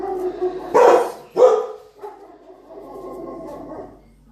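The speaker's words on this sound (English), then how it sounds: "Sorry if you can hear a dog bark in the background" A dog barks twice in quick succession at moderate distance, followed by quieter muffled noise in a calm room.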